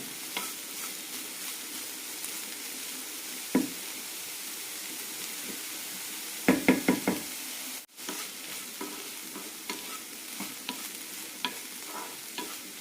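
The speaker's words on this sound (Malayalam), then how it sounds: "1 മിനിറ്റ് കൂടി നന്നായി വഴറ്റിയെടുക്കാം." Chopped banana stem sautéing in a hot pan, a steady close sizzle broken by a few sharp clattering stirs against the metal, with no one talking.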